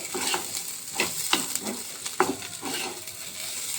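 Rice grains frying for paneer pulao, stirred in a pan with repeated scraping strokes over a continuous soft sizzle, close and rhythmic.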